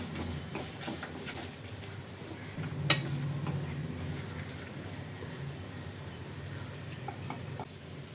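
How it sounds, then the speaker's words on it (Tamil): Shallots, red chillies, tamarind and ginger sautéing in a pan give a steady dense crackling sizzle, close and continuous, with one brief sharp clink near the middle. "இப்போது இது எல்லாமே சேர்த்துட்டு நல்லா வதக்கிக்கலாங்க."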